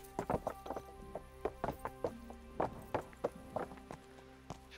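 A horse clip-clops along at a steady walk in the medieval game Kingdom Come: Deliverance, with distinct, rhythmic hoofbeats that are fairly quiet and heard on their own.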